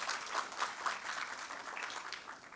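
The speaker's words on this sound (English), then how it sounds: "if we can give them a round of applause as well" Steady audience applause fills a room at a British High Commissioner to Kenya programme, a dense wash of many hands clapping at moderate distance, fairly soft throughout.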